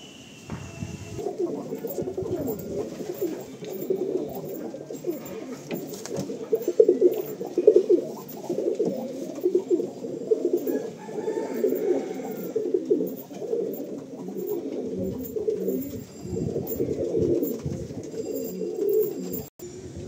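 Pigeons in a loft coo repeatedly in soft, overlapping throaty calls, several birds close by keeping up a steady rolling murmur from start to finish.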